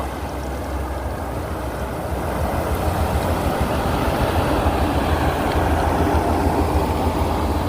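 A combine harvester cuts rice in the field, giving a steady, loud mechanical engine drone with a rumbling, whirring texture that swells slightly partway through and holds constant with no talking.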